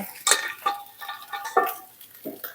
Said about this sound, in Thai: ผัดไข่กับข้าวให้เข้ากันนะคะ